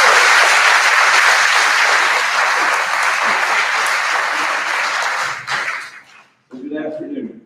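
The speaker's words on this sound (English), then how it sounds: "So please, a round of applause for all of you" Audience applause at a school re-dedication ceremony for an elementary school, loud and sustained for several seconds before tapering off, followed by a brief pause and a burst of voices at the end.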